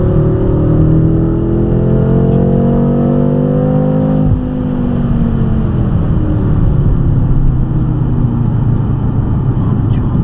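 A BMW M5 30 Jahre with about 600 hp and an Akrapovic exhaust accelerates hard at full throttle on a race circuit, a loud, close engine roar rising in pitch, easing briefly, then building again.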